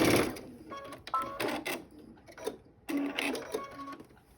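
Sewing machine stitching pieces of quilt fabric along a quarter-inch seam, with several short close bursts of rapid mechanical whirring broken by brief pauses.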